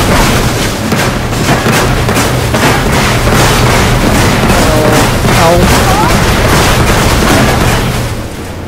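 Tank gunfire and explosions from the Armored Warfare game rumble loud and dense throughout, with repeated booming impacts over a constant engine drone and occasional voice underneath.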